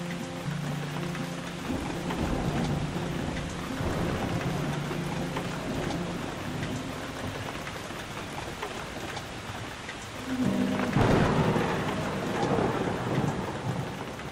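Steady heavy rain with rolling thunder at a rainy funeral wake scene in the video game The Suicide of Rachel Foster, a louder thunder crack swelling near the end over constant downpour.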